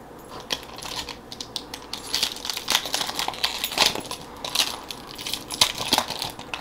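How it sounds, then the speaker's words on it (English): Metal dog tags jingle and clink in irregular bursts, with small tinkling rattles near the microphone and a few quiet gaps between. "the chimes you hear in the background is my dog curling up"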